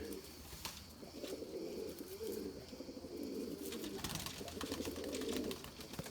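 White Erzurum pigeons coo repeatedly in soft, rolling phrases close by, with a few faint clicks and flutters between the calls.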